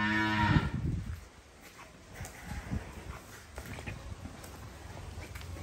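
A red Angus cow lets out one loud, close moo at the start. Quieter farm background follows, with faint thumps and rustling.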